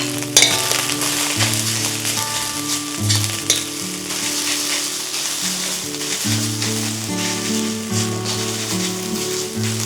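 Rice for Spam or shrimp fried rice sizzling hard in a hot pan while it chars, a loud continuous crackle with occasional clinks and stirring, no voices.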